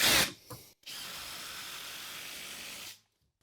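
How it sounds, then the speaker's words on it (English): Power drill driving a screw to fasten a plate down onto another plate, a short close whirring run of about two seconds following a brief initial burst. "So what I'm going to do is I'll start by screwing this down into the other plate."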